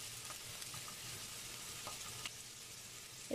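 Garlic and coriander roots stir-fry in a pan for a coriander somen champuru, a faint, steady sizzle with a few soft stirring touches, quiet and close.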